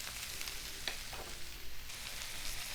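Shredded Brussels sprouts sizzle steadily in a pan over medium heat, a continuous close hiss with faint crackles and no voices.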